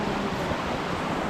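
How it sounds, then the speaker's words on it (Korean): Water in a stream flows through Zion Canyon on an autumn hike, a steady, close broadband rush with no breaks and no voices. "역시 물소리를 들으면서 걸어야"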